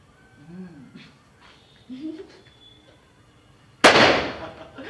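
Firecrackers burst at a birthday party, one sharp loud crackling blast near the end after quiet moments of people talking and singing.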